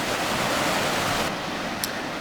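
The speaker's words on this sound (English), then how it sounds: "like in the foreground here at the waterfall" Waterfall on Norrell Creek at Lake Norrell, a steady broadband rush of falling water that stays loud and unbroken throughout, with no voices.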